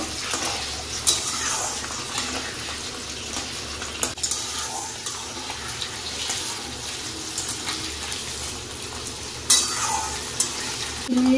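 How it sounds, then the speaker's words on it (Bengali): Potatoes fry in oil with whole cumin seeds and dried red chili, giving a loud, dense, continuous sizzle close up, with occasional clinks and sharp spatters as the pan is stirred. "আলুগুলো ভালো করে ভেজে নেব"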